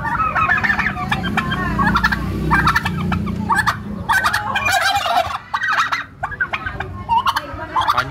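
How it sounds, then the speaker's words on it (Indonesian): Loud, close gobbling from two large turkeys in rapid, repeated bursts, the birds overlapping, with low rumbling noise beneath. "dua ekor ayam kalkun"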